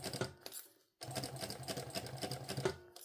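A sewing machine runs in a rapid, steady stitching rhythm while sewing a fabric sling pouch, stopping briefly for a moment of silence before resuming, close and moderately loud with no voices.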